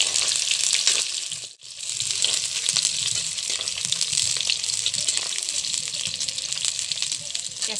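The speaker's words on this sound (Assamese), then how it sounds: "পিঁয়াজখিনি সম্পূৰ্ণৰূপে দি হ'ল বাৰু। এতিয়া লৰাই দিছোঁ হেতাখনে।" Onions fry in a pan for a chicken curry, giving a steady bright sizzle with soft scraping as a spatula stirs them, briefly interrupted once.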